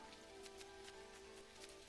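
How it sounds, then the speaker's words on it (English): Heavy rain pours in the video game Dinkum, a steady, dense patter over a faint tonal hum from the game, with no voices. "It's pouring rain"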